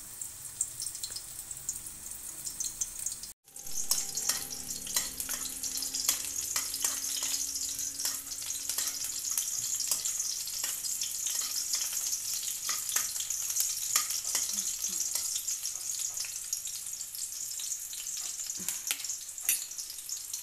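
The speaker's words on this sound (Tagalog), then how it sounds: "Igisa ko na ang sibuyas" Onions sautéing in an open pan, a dense continuous sizzle and crackle with frequent stirring clicks and scrapes, close and steady after a brief cut near the start.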